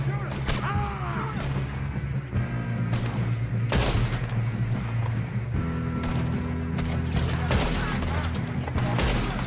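Gunfire in the Red Dead Redemption 2 video game, a train robbery mission: repeated loud shots and whacks over steady game music and hoofbeats, with a burst of shots at the close.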